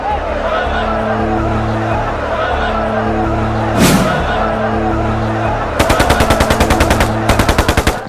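Machine gun fire from the 1919 Jallianwala Bagh massacre, sharp rapid bursts of shots starting partway through over a loud murmuring crowd and drone, with a brief whoosh earlier.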